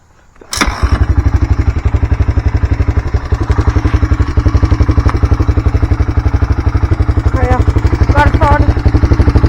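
A small gasoline engine, choked and primed with a couple pumps of gas, cranks and catches within the first second, then idles loud and close with a steady rapid chugging rhythm, a voice briefly calling out near the end.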